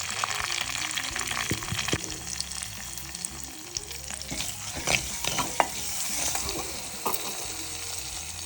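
Mustard seeds, curry leaves and asafoetida crackle in hot oil for a raw mango rasam, a close, busy sizzle broken by sharp pops and spoon scrapes, with no speech.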